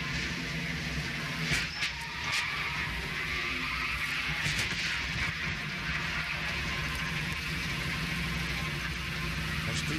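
A NASCAR stock car engine heard on board during the 2000 Diehard 500, a steady loud roar at racing speed with broad constant noise and no talk over it.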